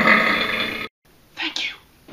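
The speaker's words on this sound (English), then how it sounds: "all the burp scenes that have, like, that same stock burp sound effect" A stock cartoon burp sound effect from the animated film Wallace & Gromit: The Curse of the Were-Rabbit: one long, throaty belch, a brief silence, then short voiced sounds.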